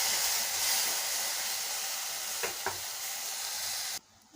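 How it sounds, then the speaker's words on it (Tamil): Radish being sautéed in a pan for sambar, a steady loud hissing sizzle with a couple of brief stirring taps, which cuts off abruptly near the end, with no talking. "இதில் அப்படியே இந்த முள்ளங்கி போட்டு நல்லா வதக்கிக்கலாங்க."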